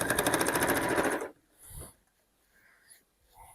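A sewing machine stitches a fabric book sleeve with its lining, running in a quick, even burst for just over a second before it stops, leaving faint handling noises and quiet.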